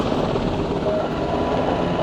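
Helicopter at a special forces operations demonstration, a steady loud rotor and engine roar with no clear change in level, no voices present.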